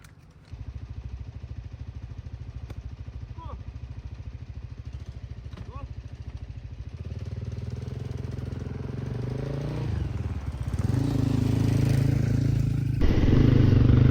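A motorcycle engine sets off on a ride through windy Gansu desert country, first a steady close idle chug, then revving up in pitch and loudness as it pulls away, with a voice talking over it.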